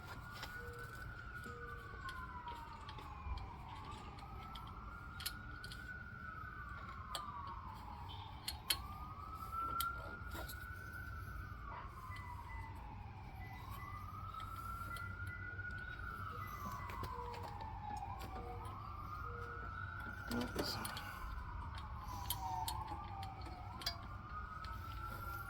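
A wailing emergency siren sweeps up and down in repeating cycles somewhere in a residential neighborhood, steady and moderately distant over a low background hum, with no talking.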